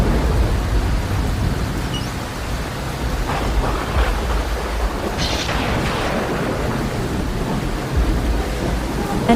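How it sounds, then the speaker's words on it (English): Thunderstorm with torrential rain over Montreal, a steady loud roar of downpour throughout, with rumbles of thunder rolling through the middle of the stretch. "A powerful storm that passed through the region on a Thursday afternoon caused severe flooding in the city as torrential rains lashed down."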